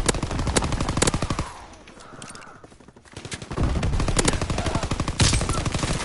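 Rapid automatic gunfire in a PS4 shooter on the Shipment map, loud close bursts of evenly spaced shots, a short lull with softer sounds, then further sustained bursts.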